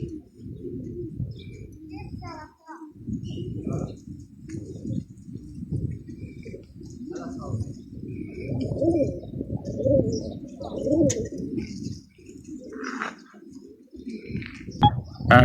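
Racing pigeons coo steadily at a village pigeon club in Xıdırlı, a continuous low throaty burbling from several birds close by, with faint chirps and light movement mixed in.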